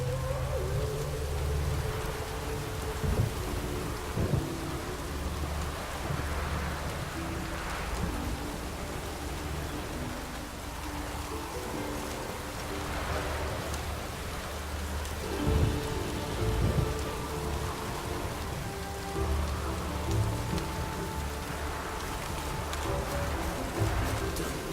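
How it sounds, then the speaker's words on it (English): A thunderstorm in The Witcher 3 video game: steady heavy rain hisses throughout while deep thunder rolls rumble now and then, loud and close with no talking. "A storm, damn it."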